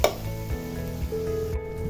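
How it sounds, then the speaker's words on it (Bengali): Chopped onion, garlic and green chilli sizzle in a pan of oil as part of a fenugreek leaf (methi shak) stir-fry, a steady close frying hiss with faint stirring scrapes and no talk. "তো দেখুন এখন পেঁয়াজ রসুন কাঁচামরিচকে আমি মাঝখানে রেখে এগুলো ভাজা ভাজা করে নিব।"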